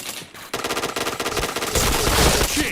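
Gunfire in a video game, a loud close burst of rapid automatic shots in a steady rhythm, swelling into a sustained roaring blast at the end.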